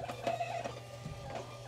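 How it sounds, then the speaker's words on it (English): A printer running off shipping labels for an FBA shipment, a steady mechanical whir with faint clicks across the short stretch, close and moderately quiet. "print the labels out."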